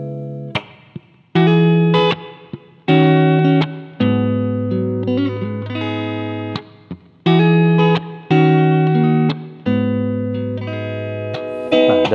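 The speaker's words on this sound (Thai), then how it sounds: "อันนี้รีเวิร์บแบบบาง" Electric guitar played through a NUX Mighty Lite BT portable amp with a thin, light reverb, ringing out in sustained strummed chords and short riffs with gentle decaying tails, loud and close with no talking.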